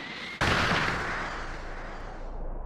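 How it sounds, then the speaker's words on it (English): Special Beam Cannon blast from the Dragon Ball Sparking Zero video game: a sudden loud explosive burst that hits at once, then roars on and slowly fades over a couple of seconds, with no talk. "Special beam cannon!"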